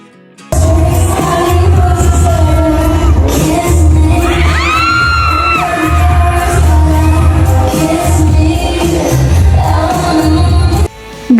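A crowd screams and cheers loudly and continuously at a stage performance, as a performer dances and sings at a beauty party, with shouts and whoops over a steady thumping music beat.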